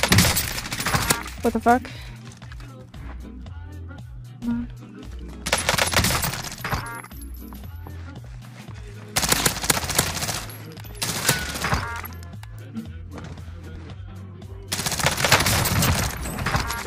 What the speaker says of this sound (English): These guys are fighting with pistols over here.